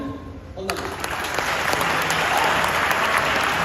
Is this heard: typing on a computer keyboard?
no